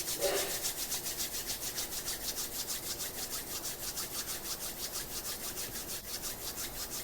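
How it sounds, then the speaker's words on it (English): Palms rub steadily together close up, a continuous dry swishing with a quick even back-and-forth rhythm for several seconds, with no talk. "you rub your hands."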